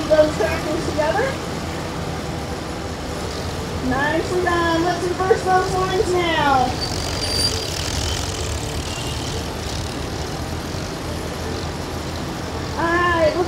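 Tractors driving in a tractor square dance at the Fulton County 4-H Fair, a continuous low engine rumble under a caller's amplified voice directing the lines, with engine pitch rising and falling as they move.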